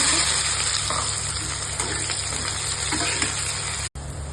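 Garlic and onion with cumin sizzle steadily in hot oil at the start of a radish (mooli) sabji, a dense continuous frying hiss close by with faint stirring scrapes and a brief cut near the end.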